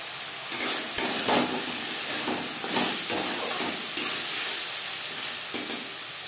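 Tomatoes and mixed vegetables fry in a pan for sabudana khichuri, a steady sizzle and hiss running throughout, broken by repeated scraping stirs with a spatula at close range, with no talking.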